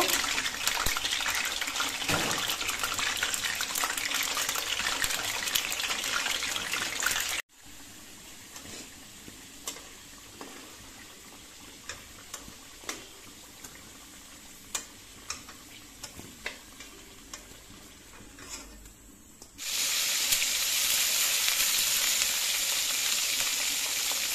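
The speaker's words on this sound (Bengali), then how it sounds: "তো আলুগুলোকে ভাজার জন্য দিয়ে দিল।" Potatoes fry in oil in a home kitchen with a dense, hissing sizzle that drops to quieter crackles and ticking pops in the middle, then returns at full loudness.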